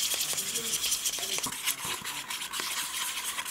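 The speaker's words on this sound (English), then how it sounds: "Put that in, mix it round with the old brush." An old brush stirs a small amount of Hammerite paint thinned with thinner, giving a soft, continuous scraping swish with light taps against the container, close and steady, with no voices.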